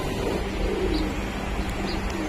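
Kaldam pigeons kept for sale coo in low, soft repeated calls against a constant murmur of background noise, with a few faint higher chirps.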